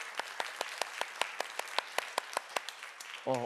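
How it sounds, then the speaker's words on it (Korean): A sparse, steady round of clapping from a small church congregation at a Wednesday service welcoming a missionary, moderately close, rhythmic and unhurried, ending with a brief voice at the close. "박수로 한번"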